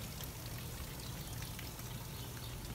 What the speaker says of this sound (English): You can see the water just running down the edges.